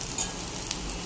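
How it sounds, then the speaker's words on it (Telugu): Sliced onions frying in a pan until brown for a prawn curry give a brief, even, moderately quiet sizzling hiss with no voices. "ఆనియన్స్ బాగా చక్క బ్రౌన్గా ఫ్రై అయిపోయినాయి"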